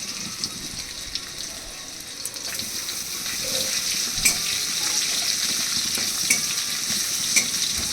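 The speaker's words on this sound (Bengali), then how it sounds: "এবার এর মধ্যে দিয়ে দিচ্ছি এবার পেঁয়াজ কুচি।" Chopped onion hits oil tempered with ginger and sizzles steadily, with scattered stirring clicks and scrapes, the frying growing louder and denser about halfway through.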